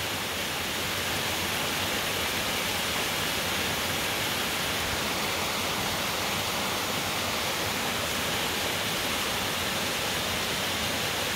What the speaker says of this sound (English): This is a 100 foot fall.